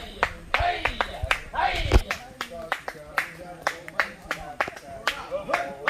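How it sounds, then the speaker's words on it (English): Rhythmic group handclapping in steady beats, with voices talking over it, as police officers march to their song on a walk to a West African waterfall in Ghana's Volta region. "And you know the song because you're clapping."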